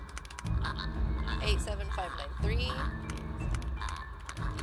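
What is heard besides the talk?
slow typing on a computer keyboard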